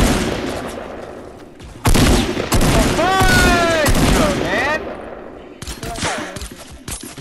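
Rapid bursts of automatic gunfire and shots from a first-person shooter game, loud and dense, coming in several volleys over steady background game noise.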